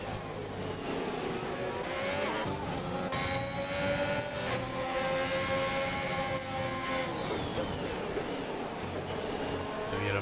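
Formula 1 race cars in the F1 2021 video game at Abu Dhabi roar past together, with high engine whines rising and falling as one car overtakes another, loud and continuous for about ten seconds.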